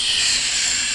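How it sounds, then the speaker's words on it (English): A cross-country steam engine lets off steam in a steady, bright hiss that runs unbroken and fairly loud throughout, with no voices. "Pardon me while I get up some steam."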